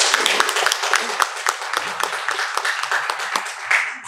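Applause at a Mazdoor Kissan Party press conference during its 8th Congress, a moderate patter of clapping from a modest gathering with some individual claps standing out, fairly close and continuous.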